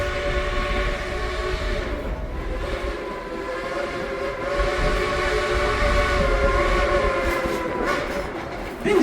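The Dollywood Express steam train rolls along at the theme park with a steady rumble and rattle of cars, its whistle sounding in drawn-out tones, loud and close for the whole stretch.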